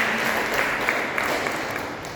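Applause from a rally crowd welcoming a speaker at a party event in Jhajjar district, Haryana, as steady, dense clapping that holds throughout at even loudness.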